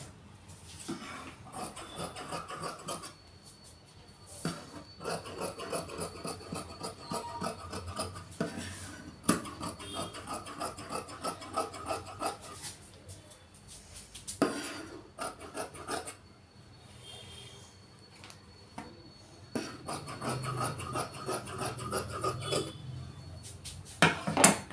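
Scissors cut churidar cloth on a tailoring table, producing faint, quick snipping and rustling strokes in irregular bursts with brief pauses, soft and close with no speech.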